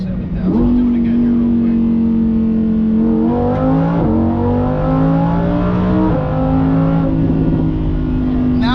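A Lamborghini Huracan Performante engine revving hard to about 7,000 RPM, loud and close, its pitch climbing in repeated stepped surges with a dense, snarling tone the whole time.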